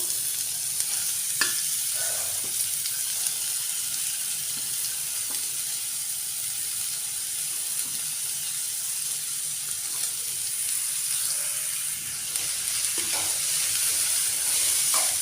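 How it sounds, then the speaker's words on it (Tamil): Onions sauté in a pan for broad bean poriyal with a steady, bright sizzle and occasional stirring scrapes, close and continuous, with no one talking. "வெங்காயம் போட்டு ஒரு ரெண்டு நிமிஷம் வதக்கிட்டு"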